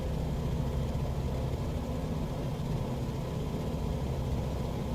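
Steady, even engine drone of a plane in Microsoft Flight Simulator 2020, a continuous low rumble with no breaks and no voices.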